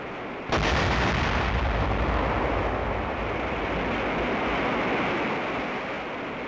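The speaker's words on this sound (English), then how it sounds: "Rocket away." A military rocket launches with a sudden loud blast that swells into a sustained, roaring, hissing thunder, holding steady and loud without any voices.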